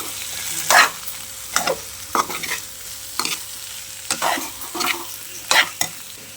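A spoon stirs potato curry in a frying pan in about six separate scraping strokes, each a short rasping burst, close up over a quiet background hum.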